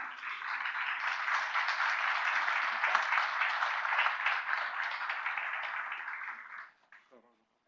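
An audience at a free macroeconomics seminar applauds with steady, dense clapping for about six and a half seconds before it fades out quickly, and a voice is heard briefly at the end.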